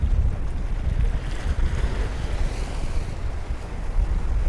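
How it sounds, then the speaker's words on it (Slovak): Very large sea waves break and wash onto a beach at Dahar, a loud continuous surf roar with heavy wind noise buffeting the microphone throughout. "Dneska sú veľmi veľké vlny."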